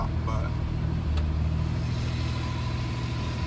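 Steady mid-level engine drone heard from inside a pickup truck with a 700 hp Cummins diesel while driving, a constant rumble with no vocal overlap.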